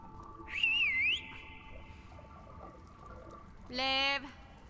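A character in The Last of Us Part II gives two short whistles, the first a rising, wavering tone and the second a brief trill a few seconds later, each fairly close and clear over a quiet game background.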